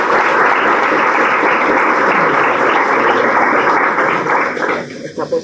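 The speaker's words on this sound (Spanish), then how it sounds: "Un aplauso para Mariana y su proyecto." Dense, sustained applause from a lecture audience at a university school of architecture and urban studies, loud and steady throughout before thinning into a few scattered claps at the end.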